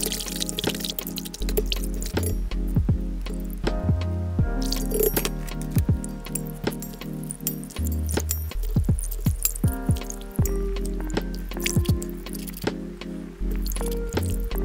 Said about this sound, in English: So today we're going to use just the whisk and then of course our hands